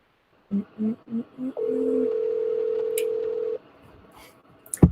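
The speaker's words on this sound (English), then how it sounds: "I'm gonna call Tanya on video chat just to see if she answers" A laptop video chat call rings out: four short electronic tones in quick succession, then a long steady ringing tone that stops abruptly, followed by a few faint clicks, clear and close with no talking.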